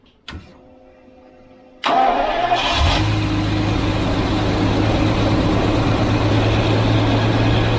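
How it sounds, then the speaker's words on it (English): A V12 car engine cranks and catches after a quiet moment, then revs briefly before settling into a loud, steady idle up close. "So I'm going to fire the engine up"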